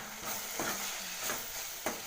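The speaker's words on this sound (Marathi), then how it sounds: "आणि मग ते शिमला मिरची टाकायची" Capsicum sautéing in hot oil tempered with cumin, turmeric and spice mix, a soft low sizzle with a few spatula stirs scraping through, quiet and close.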